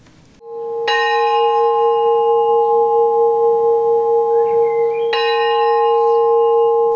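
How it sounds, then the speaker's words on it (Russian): Bells ring at the Armenian Apostolic Church of Saint Sarkis in Adler on 24 April, two loud clear strikes a few seconds apart, each leaving a long sustained ringing tone that hangs in the air with no speech. "На территории собора ежегодно 24 апреля звучат колокола."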